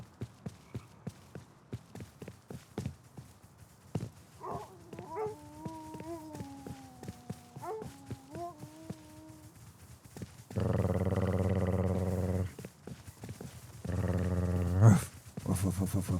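A pack of wolves in the survival game Rust growls and whines with drawn-out wavering cries, then snarls loudly in two bursts near the end. The sounds are fairly close and no one speaks.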